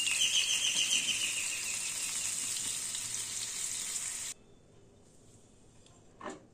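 Garam masala and bay leaves hit hot oil with a loud, bright, steady sizzle for several seconds that cuts off abruptly, leaving near quiet and a short clatter at the end.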